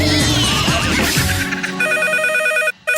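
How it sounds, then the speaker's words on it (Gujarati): A telephone ringing in a radio comedy studio segment, a bright repeated electronic ring pattern in short bursts after a brief jingle-like noise, loud and close with a short gap before the final ring. "ફોન આવ્યો કાકા."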